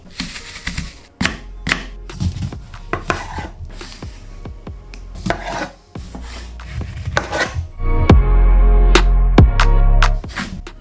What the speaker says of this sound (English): you want to thinly slice your fruit but not too thin